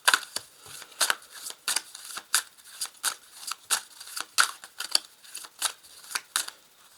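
Oracle des miroirs cards shuffled and drawn by hand, a steady series of crisp, close papery flicks and snaps repeating about every half second, with no voices.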